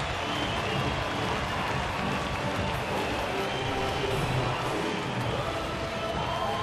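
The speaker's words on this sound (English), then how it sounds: "the crowd loves it" Crowd cheering at a baseball stadium during a Rockies game in Colorado, a steady loud roar of many voices sustained throughout without a break.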